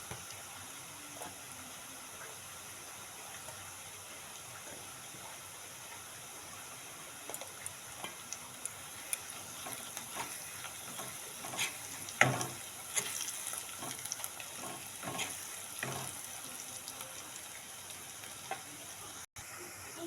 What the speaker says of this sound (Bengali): দেখো এখানে কম বেশি কিন্তু পেঁয়াজটা ভাজা হয়ে গেছে